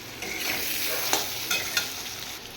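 Potato pieces fry in a pan for an egg and vegetable curry, giving a steady, close sizzle broken by a few sharp stirring clicks and scrapes. Nobody speaks.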